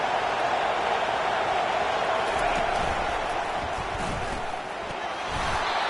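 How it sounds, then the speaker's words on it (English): Football stadium crowd roaring steadily at a defensive stand, a dense, loud wash of cheering and noise that holds throughout with no clear individual voices. "It is getting loud as this crowd tries to help its defense."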